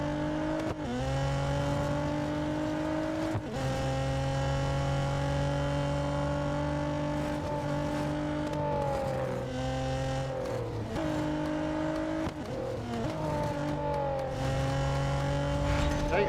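Engine of a race car in Real Racing 3 holds high revs through a multi-car race, droning steadily with brief dips and climbs at gear shifts, loud and continuous.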